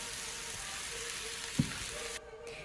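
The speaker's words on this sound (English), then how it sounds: "As soon as I started frying vegetables, I added potatoes and cabbage into the pan with broth." Vegetables fry in a pan for borscht, a quiet steady sizzle with a single soft knock partway through before the sound drops away near the end.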